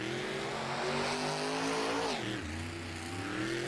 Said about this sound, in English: Sliding that truck around, looking for his next hit.